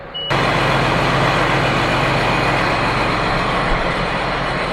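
Tractor engine running steadily after a hard start, a loud, continuous low rumble with a throbbing idle that kicks in abruptly after a brief quiet moment and holds unchanged throughout, with no talk.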